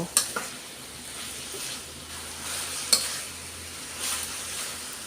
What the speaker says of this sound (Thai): ผัดให้ ผักมันสุกสักหน่อยนะคะ